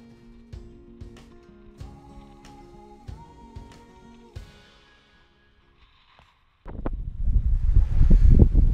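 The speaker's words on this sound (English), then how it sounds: "Hopefully this wind isn't affecting this footage too much" Music plays for several seconds, fades to near silence, then loud buffeting wind rumbles against the microphone.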